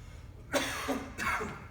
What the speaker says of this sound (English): Coughing, I gotta be careful.